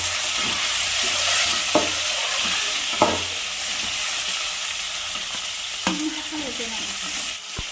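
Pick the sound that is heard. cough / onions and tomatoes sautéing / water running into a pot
onions and tomatoes sautéing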